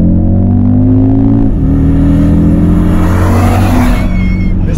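Audi RSQ3 with a 400 hp engine accelerating hard, a loud close engine roar that rises, dips at a gear change and keeps building, strong throughout with little else heard.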